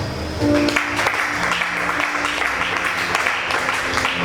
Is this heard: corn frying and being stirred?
no